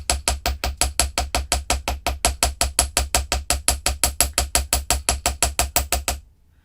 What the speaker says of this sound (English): And then we're going to hammer each of the sides, making sure I keep the beads off of the bench block